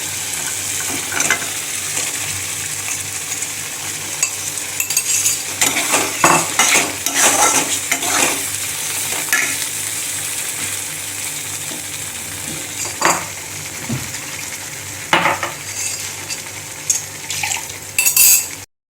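Eggs sizzle in hot masala for a creamy Afghani egg curry while a utensil scrapes and stirs, with intermittent clinks against the pan, close up and fairly loud.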